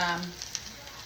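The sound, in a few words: hamburger meat frying in a pan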